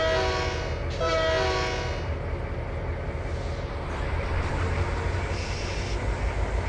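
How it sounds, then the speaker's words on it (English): A train horn in the video game Trainz 2022 sounds in two blasts over the steady rumble of a passing train near a crossing, then the rolling rail noise continues alone. "I heard the crossing going off, so there must be another train coming through."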